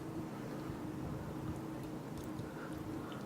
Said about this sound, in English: somebody cutting the grass in the background